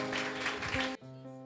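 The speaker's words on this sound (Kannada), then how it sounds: "ಜೋರಾದ ಚಪ್ಪಾಳೆ ತಟ್ಟಿ." A congregation at a Sunday church service claps loudly in a dense, steady burst for about a second. Sustained musical tones play underneath and continue after the clapping stops.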